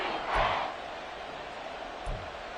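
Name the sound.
Arrowhead crowd roaring in the Madden video game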